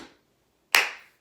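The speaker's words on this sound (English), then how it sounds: "I'm clapping for you." A single sharp hand clap rings out alone in a quiet room, followed by a short decaying tail and a faint second tap just after.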